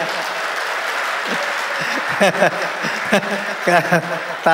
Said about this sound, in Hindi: आपकी तालियां बहुत कमजोर हैं।